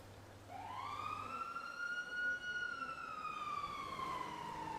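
A police car siren in Grand Theft Auto V wails in one long rising and falling tone, moderately loud over a low background hum.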